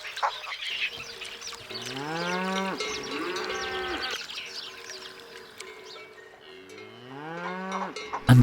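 A herd of grazing cattle lets out long, deep moos, one after another, while cowbells clank steadily in the background and birds call faintly.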